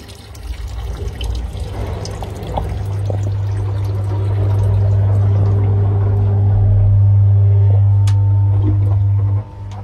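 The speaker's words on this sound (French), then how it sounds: "On peut continuer à équiper en même temps de remplir le pulvé. Vous voyez le double vortex." Water pumped through a product mixer into a crop sprayer tank, a steady pouring rush with a low pump hum that builds and holds loud, then cuts off near the end.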